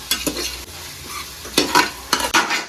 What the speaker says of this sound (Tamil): அந்த ஸ்டேஜில் நான் தக்காளி சேர்த்துக்கிறேன் நம்ம வதக்கி செய்யும் போது நல்ல வாசம் கிடைக்கும்